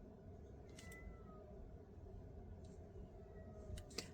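A kitten mews faintly a few times in a quiet room, with brief thin high calls spread over a steady low background noise.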